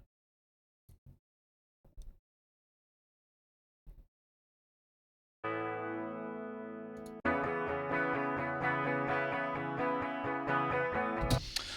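Soloed direct-input rhythm guitars for a particular tone: a few scattered quiet plucks, then a loud sustained chord part that thickens into a dense, driving layered strum.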